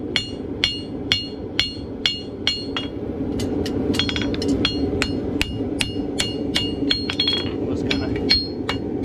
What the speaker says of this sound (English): you have your clip drawn out on your left branch, it pokes against the base of the anvil